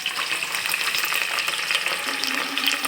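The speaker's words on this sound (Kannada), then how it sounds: "ಸ್ವಲ್ಪ ಫ್ರೈ ಮಾಡ್ಕೊಳ್ಳೋಣ." Cinnamon, bay leaf and peanuts fry in hot oil in a pan, giving a steady, close sizzle that holds level throughout with light stirring, and no talking.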